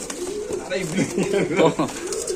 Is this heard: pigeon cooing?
yes